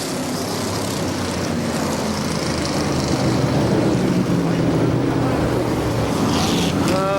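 ARCA SuperCars roaring around KilKare Speedway, a dense continuous drone of several stock car engines at racing speed, loud and steady, with a rising whine of a car passing near at the end.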